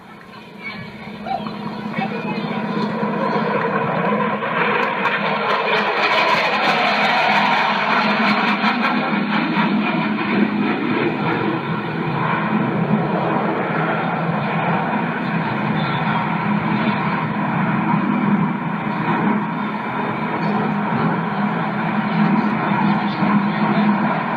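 Military jets flying past at the 1988 Miramar air show, a loud sustained roar of engines that swells and holds for over twenty seconds, with a public-address voice talking underneath.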